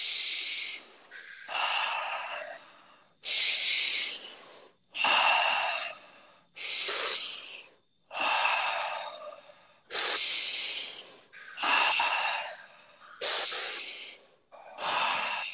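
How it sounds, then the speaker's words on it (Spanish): Deep, rhythmic breathing exercise: forceful breaths alternate in and out, about ten strong airy bursts with short gaps in a steady pace, close and loud. "y soltamos, cambiando la química de nuestro cuerpo con la respiración"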